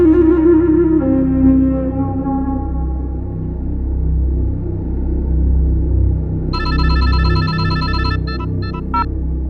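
An electronic telephone ringtone chirps in quick repeated bursts near the end, loud and close. Before it, a fading tonal hum sits over a low rumble.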